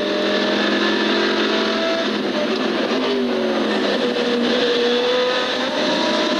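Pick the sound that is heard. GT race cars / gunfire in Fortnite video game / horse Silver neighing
GT race cars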